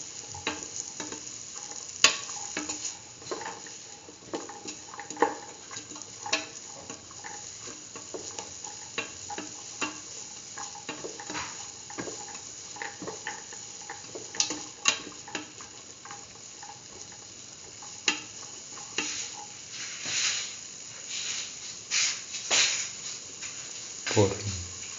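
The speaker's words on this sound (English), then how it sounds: "Mix in the green peas with the rest of the ingredients. Thoroughly mix." Green peas stirred into a chayote stew in a pan, with a spoon scraping and clinking against the pan in irregular taps over a low sizzle, close by and moderately loud for about twenty-five seconds.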